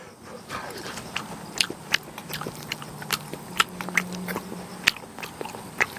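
Someone eats a small shrimp fresh from a trap, boiled in home-heated water, with close wet chewing and sharp crunchy bites repeating irregularly, quiet and unhurried with no talking.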